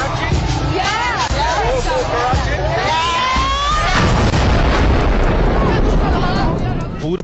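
A bomb blast in Karachi in October 2007 during a crowded political rally: loud crowd babble and shouting, then at about four seconds a heavy, broad explosive boom that leaves a sustained roar of noise behind it.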